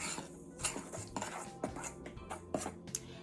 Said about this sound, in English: We just gonna mix this together, make sure everything's nice and incorporated and spread out in the flour.